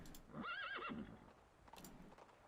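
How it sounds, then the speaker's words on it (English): A horse neighs in the game Reverse: 1999, a close, wavering whinny lasting about half a second, followed by faint hoof clip-clops as it bolts away, the sound fading quietly afterward. "The communicator's noise startles the nibbling horse. It lifts its head and bolts onto the distance."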